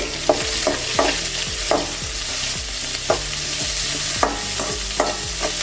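Small onions and garlic sautéing in an oil-slicked pan for aala keerai (four-leaf clover greens), with steady close sizzling and repeated scraping stir strokes of a spoon against the pan, no voices.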